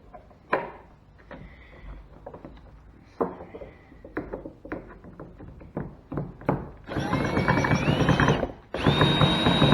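Screws being driven tight into a transducer mount on an Old Town Topwater 106 PDL kayak: a run of clicking, ratcheting clunks, then a loud whirring stretch of a power driver near the end.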